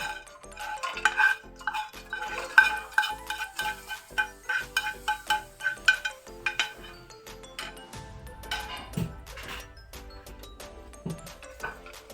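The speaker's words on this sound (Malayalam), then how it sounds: "കുറച്ച് തേങ്ങ ഉണ്ട്, അത് നമുക്കൊന്ന് ഇട്ട് വറക്കാം." Grated coconut roasting in a pan for Kerala payasam, with a steady run of scraping and stirring, a spoon clinking against the pan, rhythmic and fairly close, then a brief low rumble near the end.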